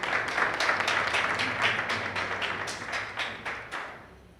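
Audience applause at a national debate competition final, a room of people clapping with rhythmic unison beats gradually fading, close and without talk.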